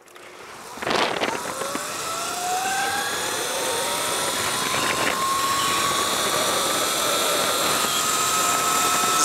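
A Sur Ron Light Bee supermoto electric bike launches in a drag race, its motor whine rising steadily in pitch and growing louder over several seconds, with a rushing wind-like roar underneath and no talking.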